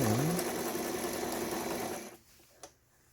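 A Brother sewing machine whirs steadily for about two seconds while reverse stitching, then stops, followed by a single small click.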